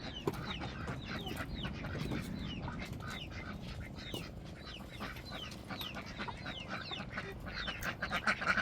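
Chickens cluck and chatter continuously in a busy yard, mixed with other birds and ducks, a steady rustling background beneath the calls.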